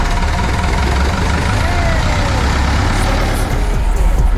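A canal boat's engine runs during a New Year cruise, a steady low diesel rumble holding loud and close throughout, with faint voices in the background.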